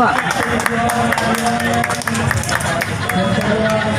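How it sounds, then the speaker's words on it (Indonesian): Audience at a school award ceremony applauds SMK Negeri 4 Goa, with continuous clapping and crowd murmur throughout, close and fairly loud, while an announcer speaks over it. "Kita beri aplaus untuk SMK Negeri 4 Goa."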